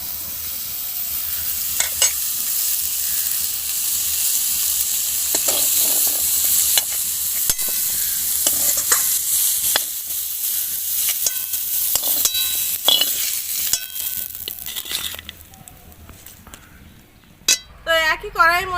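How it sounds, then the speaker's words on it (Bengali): Jackfruit being fried and stirred in oil in a pan, a steady close sizzle with scraping stir strokes and occasional clinks of utensil on metal, continuous throughout. "এঁচোড়টা এদিকে আমি ভালো করে একটু ভেজে নিয়েছি।"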